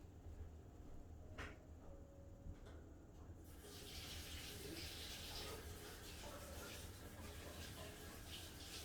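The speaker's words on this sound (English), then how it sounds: "Let me wash my hands really quick." Hands being washed under a running tap, with a steady broadband water rush that begins about a third of the way through and continues to the end, preceded by a few faint knocks and quiet room sound.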